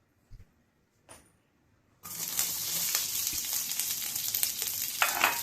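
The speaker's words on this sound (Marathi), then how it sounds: "सुरुवातीला आपल्याला ना मिरची छान अशी तेलात परतून घ्यायची आहे, भाजून घ्यायची आहे." Green chillies frying in hot oil: after a couple of faint knocks, a loud, steady sizzle bursts in and holds with crackling pops, close and alone.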